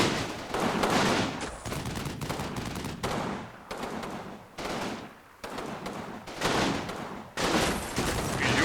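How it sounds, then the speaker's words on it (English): Machine gun fire rattles through a World War II battle in the Combat Mission Final Blitzkrieg video game. Long bursts of rapid, loud automatic fire repeat across several seconds, separated by short pauses. "You are supposed to put up your machine gun here, but I guess they want to shoot semi-deployed."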